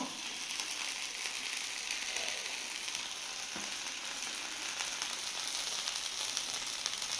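Rava dosa batter sizzles steadily on a hot pan in an ashram kitchen, a bright, continuous crackling hiss at moderate volume with a faint clink partway through and no talking.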